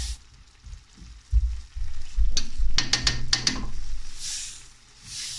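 Tomatoes simmering in a frying pan give off a soft, steady sizzle with some stirring and scraping in the middle, close by and fairly quiet, with no talking.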